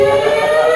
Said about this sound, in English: I'm ready with my siren.